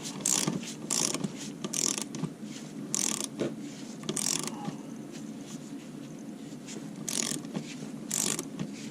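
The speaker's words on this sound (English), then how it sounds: "So now we'll use our torque wrench and go 10" A torque wrench tightens cylinder head bolts on a 2011-2014 Dodge Durango, making bursts of quick ratcheting clicks, close and fairly quiet, repeated in short runs with pauses between them.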